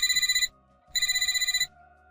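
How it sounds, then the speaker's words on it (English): A work phone ringing with an electronic ringtone: two bright, trilling bursts of about half a second each, separated by a short silence, loud and close. "Then my work phone rang."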